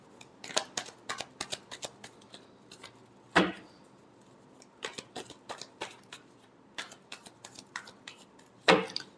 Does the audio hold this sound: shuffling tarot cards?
yes